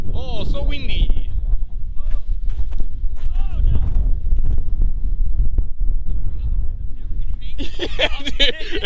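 Strong gusts buffet an outdoor microphone beside a road, a constant low rumble of wind noise that swamps the scene while someone talks intermittently over it.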